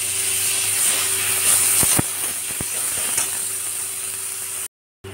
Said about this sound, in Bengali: পেঁয়াজটা লাল লাল করে ভাজা হচ্ছে